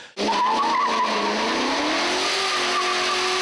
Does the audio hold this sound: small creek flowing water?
no